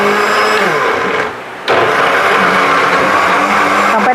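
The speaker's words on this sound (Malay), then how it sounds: "Dah blender." A blender whirs loudly up close, dips briefly as if pulsed, then roars back at full speed.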